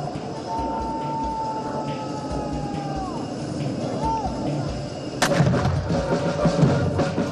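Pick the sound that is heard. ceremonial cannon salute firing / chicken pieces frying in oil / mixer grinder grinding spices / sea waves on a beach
ceremonial cannon salute firing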